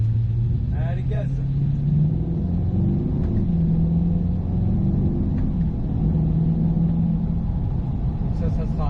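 Corvette C8 accelerating hard on a race track, a loud continuous engine rumble with rising pitch heard from inside the car, with someone speaking over it.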